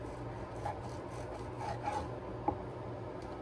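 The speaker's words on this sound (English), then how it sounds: "I'm trimming off the fat." A knife trimming fat off a grass-fed beef roast makes close, steady scraping and rasping strokes with a small sharp tick partway through, and no talk.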